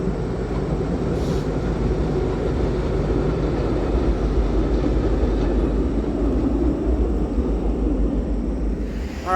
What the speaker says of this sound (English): Here comes the FRA track geometry train led by NSSD-70 Ace